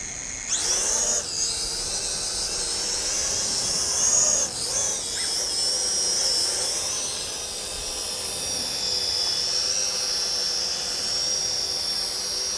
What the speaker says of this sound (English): I'll just take it off now and do a little bit of line of sight flying.